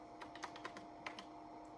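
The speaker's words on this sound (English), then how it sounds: "I'm typing too fast for the computer." Quick, light keystrokes on a computer keyboard tap out an irregular patter of about a dozen clicks, close and fairly quiet with no voices.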